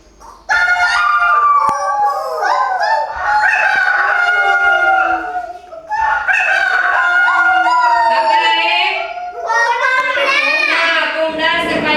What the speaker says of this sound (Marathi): कोंबडा सकाळी सगळ्यांच्या अगोदर उठतो आणि उठल्यानंतर कसा करतो बघा